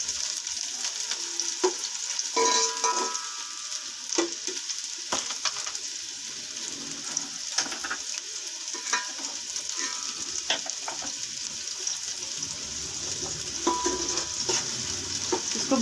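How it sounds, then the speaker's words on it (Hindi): Half a cup of spring onions lightly sautéed in a pan, kept pale rather than browned, for macaroni: a steady, close sizzle runs throughout with soft stirring scrapes and clicks, and no one talks. "ये हमने आधा कप पत्ते के प्याज लिए, इसको हल्का सा भूनेंगे।"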